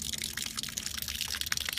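Water drains from an opened valve on a motorhome's water system, a continuous close splashing gush with a fluttering, bubbly texture that holds steady throughout.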